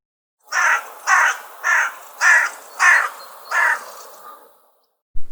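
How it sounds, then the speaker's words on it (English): A crow gives six harsh, rasping caws in a quick, even series, loud and close, with the last call fading away and nothing else around it. "The sound of the crow is caw."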